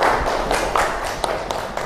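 A small audience claps briefly in a classroom setting, a quick cluster of light, sharp hand claps of moderate loudness that fades within two seconds.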